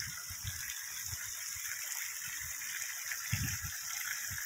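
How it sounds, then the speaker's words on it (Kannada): Water overflows across open farmland, a faint, continuous gushing hiss with soft low splashes, steady throughout and with no voices. "ಅಷ್ಟು ನೀರು ಇಲ್ಲಿ ಓವರ್ ಫ್ಲೋ ಆಗ್ತಾ ಇದೆ"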